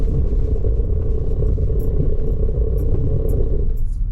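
A vehicle on BFGoodrich KO3 tires brakes hard on ice at minus 19 degrees, a loud continuous rumble of road and tire noise heard from inside the car with faint ticking and clatter on top.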